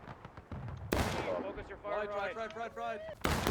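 Loud, close gunfire volleys from a Blue and Grey Civil War reenactment battle: sharp cracks open the clip and cut back in near the end, while shouted commands come between the shots.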